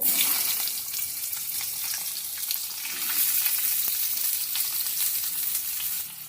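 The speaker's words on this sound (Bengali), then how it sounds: "কেটে রাখা আলুটা ওই তেলের মধ্যে দিয়ে দেব" Cut potatoes dropped into hot oil for a spicy Bengali bata fish curry fry steadily and loudly with a continuous crackling sizzle, alone and close, with faint stirring.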